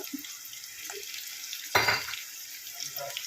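Onions and green chillies hit hot oil in a kadai for an egg curry with tamarind leaves, giving a sudden loud sizzling burst midway over a steady background hiss before settling back down.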